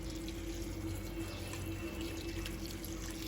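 Water being poured into a pan of Maggi noodles, a steady, close, continuous rush of liquid with a faint hum beneath and no voices.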